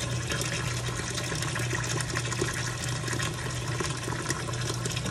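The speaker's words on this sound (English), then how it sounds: "Then I'm gonna put some water in it just to start the soaking process." Water pours into a pot of dried pigeon peas to start soaking, a steady splashing fill that runs unbroken and close for a few seconds, with no talking.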